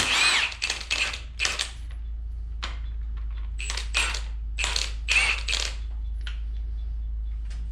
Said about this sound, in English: now we can take this tensioner out. This is a 27 mil, kind of a big socket